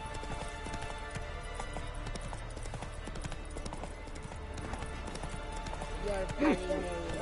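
Horse gallops in The Witcher 3 video game with a steady, continuous clip-clop of hooves, loud and close, over game music, while a voice talks above it.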